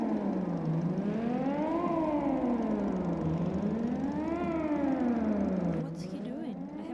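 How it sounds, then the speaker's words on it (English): A civil defense siren wails in the game Titan Chaser, its pitch rising and falling in slow repeated cycles, steady and prominent before cutting off near the end, with a voice talking underneath. "Wait, I heard this siren from my apartment in Bright City every once in a while."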